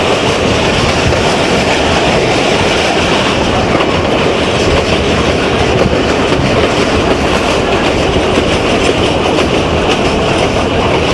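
The Kohat Express runs from Rawalpindi toward Kohat, Pakistan, passing straight through the abandoned Chauntra station. Its loud, continuous rumble and rolling clatter stay close and steady, with no voices.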